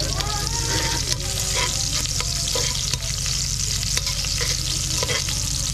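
Onions frying in a pan during a catch-and-cook meal of needlefish, giving a loud, continuous close sizzle with stirring scrapes throughout and no talking.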